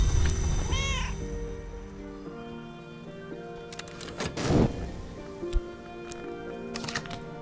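Cat meowing in the video game Book of Hours, a short rising-falling meow near the start over soft ambient music, followed by light tapping and rain-like patter in a quiet setting.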